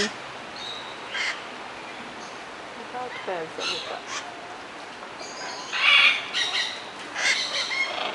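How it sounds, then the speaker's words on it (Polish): Parrots squawk at a zoo, several harsh calls in scattered bursts against a noisy background, with a brief spoken word partway through. "kochające się papugi"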